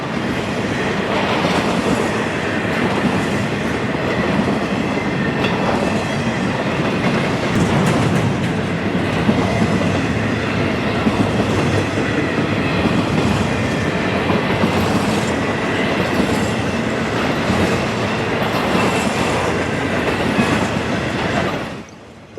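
A Florida East Coast freight train passing close by, a steady loud rumble of rolling wagons with rhythmic wheel clatter and faint squeal running the whole time, fading at the very end.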